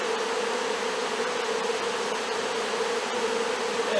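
Thousands of honey bees from a freshly installed swarm buzz inside their hive, a thick, continuous droning hum, close and unbroken, with no speech over it.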